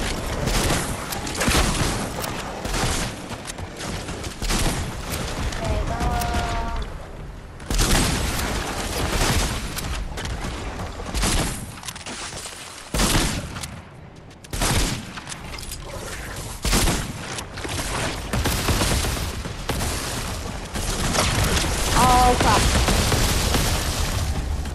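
Dense, near-continuous gunfire in the video game Frost Zombie Survival, rapid cracks and booms layered over game noise, with short lulls and brief electronic tones, lasting throughout.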